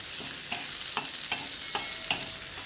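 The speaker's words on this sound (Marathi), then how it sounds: "कांदा थोडासा मऊसर होईपर्यंत परतून घ्यायचा" Onion sautéing in a tawa with a pinch of salt for a potato and capsicum dry curry: a steady oily sizzle with regular scraping spatula strokes about every half second, close and clear, no talking.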